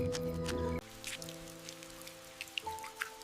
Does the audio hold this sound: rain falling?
yes